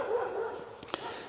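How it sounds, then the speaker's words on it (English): A dog named Winston barking at an Amazon delivery truck, a few short yips and whimpering barks close by, with a couple of sharp bursts near the end. "Winston's barking at the Amazon truck"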